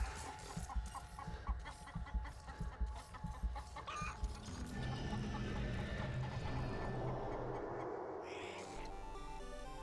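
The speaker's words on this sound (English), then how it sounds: "There he is, the big chicken." A big chicken in the Black Ops 3 Zombies video game Dead Ops Arcade 2 clucks in a rapid run of calls over busy game music and effects.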